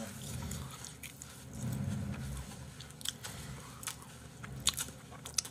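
Someone bites into a pricey apple, each about 5,000 won, and chews it up close. There are crisp crunching bites and wet chewing, with sharper snaps near the end, all close to the mic.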